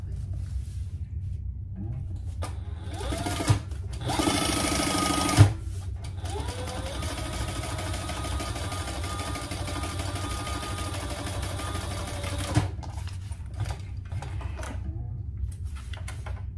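A sewing machine stitches a seam flat in several runs, with a short fast burst followed by one long steady whirring stretch, close by, with faint handling noises in the quiet gaps.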